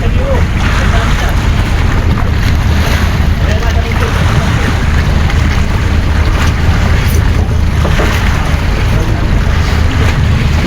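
Loud rushing wind and sea noise buffet a small boat out on open water in the Philippines, carrying tuna and dorado, with a steady roar and faint voices underneath.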